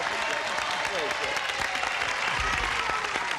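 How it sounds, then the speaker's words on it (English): A studio audience on the Match Game–Hollywood Squares Hour game show gives the judges a sustained round of applause, an even wash of clapping throughout, with voices faintly mixed in. "let's have a round of applause for the judges"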